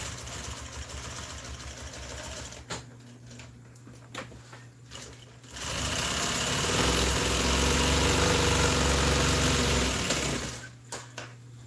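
A sewing machine runs in a steady, loud mechanical whir for several seconds, starting and stopping abruptly, with quieter handling clicks before and after, stitching pieces for motor home seat upholstery.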